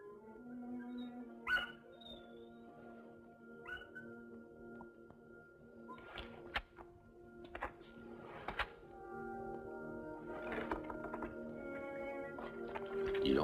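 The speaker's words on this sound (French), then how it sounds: "Puis les chiens qui aboient joyeusement comme pour fêter l'arrivée de quelqu'un qu'ils connaissent bien." Several dogs bark and yip excitedly in short bursts, some whimpering, against a steady low hum, with the barks spread across the clip and growing livelier toward the end as if greeting someone familiar.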